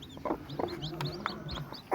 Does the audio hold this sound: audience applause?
no